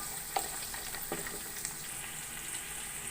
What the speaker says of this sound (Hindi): अब मैंने बीफ को सही फ्राई कर लिया है।